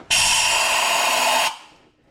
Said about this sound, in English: Got a different air compressor here.